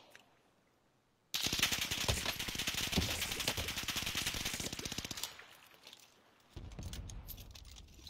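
Bursts of light machine gun fire in a first-person shooter game, fast rapid-fire rattling that runs for several seconds, pauses, then resumes as a shorter loud burst.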